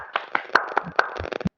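A group claps by hand in a quick, uneven burst of about a dozen sharp close slaps, with no talking over them.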